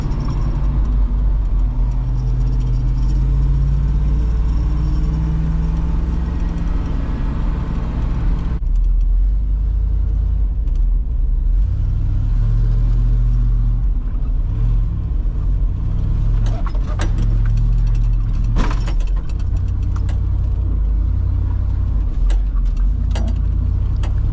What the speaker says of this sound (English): We're driving around that drift over there, I guess.